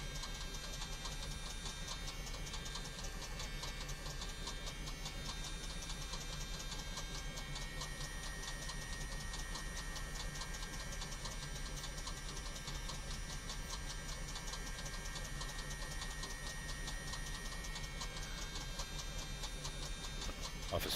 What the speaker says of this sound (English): We're trying to start engine number 2.